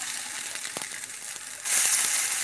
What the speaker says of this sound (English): this time I'm going to flip this one